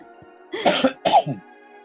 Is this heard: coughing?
yes